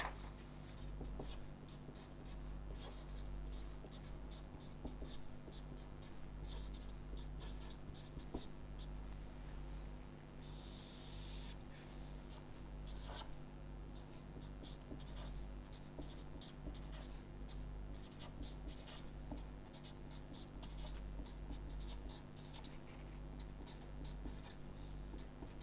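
Pen or marker scratching across a board as impulses are drawn during a lecture on scaling and wavelet functions, a quiet continuous run of short strokes and taps, no talk.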